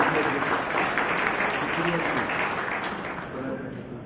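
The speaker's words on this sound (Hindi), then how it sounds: "मैं सभागार में बैठे आप सभी से अनुरोध करूंगा कि उनकी उपस्थिति के लिए हम एक बार जोरदार तालियों से उनका अभिनंदन करें।" Seated audience in an assembly hall at a Marwari community meeting claps loudly and continuously, a thick wash of applause with faint voices mixed underneath.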